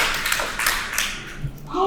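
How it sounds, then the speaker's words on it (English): A short burst of audience applause at a business training session on resource efficiency, a few quick rough clapping swells that fade away within about two seconds. "Please give me a round of applause."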